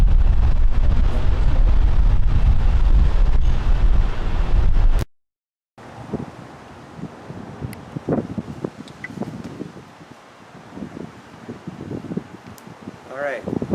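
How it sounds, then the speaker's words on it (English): Wind buffets a camcorder's built-in microphone outdoors in windy conditions, a loud rumble that cuts out abruptly, then returns in gusty, uneven bursts. "you're probably picking up quite a bit of wind noise"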